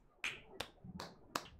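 Four sharp hand claps, spaced unevenly and fairly close, with a quiet room behind them.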